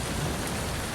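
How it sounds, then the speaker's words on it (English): Heavy rain pours steadily in California, a dense, even roar of rainfall that fills the whole moment with no breaks and no voices. "That's the heaviest rain clouds I think I've seen in this part of California ever"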